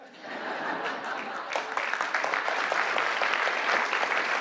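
Steady crowd applause at a presidential executive order signing, dense clapping that swells slightly midway, with a few faint chuckles mixed in.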